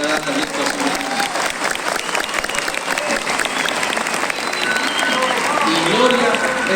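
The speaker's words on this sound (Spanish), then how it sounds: "yo paro para que ustedes aplaudan y creo que están aplaudiendo poco" An audience at a Quito mayoral campaign event claps in sustained, dense applause, with voices and some talk mixed in beneath the clapping throughout.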